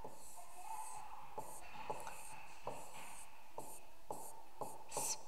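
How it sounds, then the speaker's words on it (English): Pencil writing on paper for a spelling lesson, a faint, close scratching with repeated short strokes and light taps at a steady rhythm, under a quiet room hiss. "Let's write."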